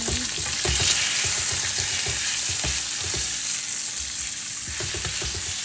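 Whole unpeeled shrimp hit a pan of sautéed garlic and onion and fry with a loud, continuous sizzle, while a utensil stirs them with scattered scraping knocks up close.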